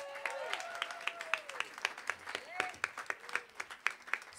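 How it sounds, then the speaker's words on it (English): A small group applauds Caitlin in an ensemble music class, sparse individual claps standing out in a loose rhythm while voices talk over them. "let's give her a round of applause"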